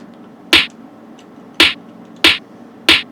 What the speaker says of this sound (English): For the snare, again, we stuck to a yeet style.